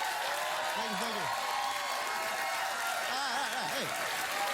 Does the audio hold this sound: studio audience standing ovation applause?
yes